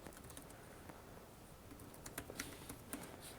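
Keys clacking on the Asus C425 Chromebook keyboard during sign-in, a steady run of light, close taps with a few sharper strikes near the end, no voices.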